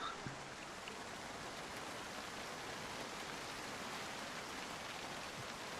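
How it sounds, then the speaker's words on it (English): Steady rain falls in the zombie survival game Project Zomboid, a dense, even wash of drops that holds at a soft level from start to finish with no voices over it. "I'm just hearing the rain at the moment."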